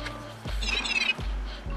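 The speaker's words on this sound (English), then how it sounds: "that's the sound of it coming off the base, by the way." A Kyocera DuraForce Pro smartphone lifted off its wireless charging base gives a short, soft warbling electronic chime lasting about half a second, set against a low steady background hum.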